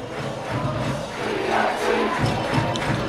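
Roaring football stadium crowd cheering just after a home goal at a Chattanooga FC match, a loud, sustained wall of voices that swells midway with shouts and low thumps mixed in.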